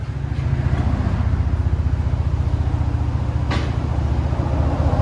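A deep, throaty Kooks exhaust on a Chevy Silverado 4.3L V6 truck rumbles steadily up close, the engine holding a low, even growl throughout with no voices.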